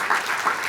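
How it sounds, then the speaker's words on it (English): A brief wash of crowd applause at a public event in Hawaii, dense and steady, cut off after under a second. "Please give them a big round of applause."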